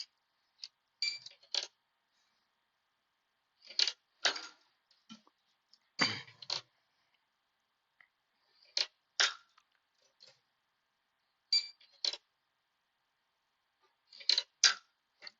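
Short sharp metallic clicks from a cabinet lock snapping shut quickly, sounding in small clustered pairs and triplets separated by silence, close and crisp with nothing else around.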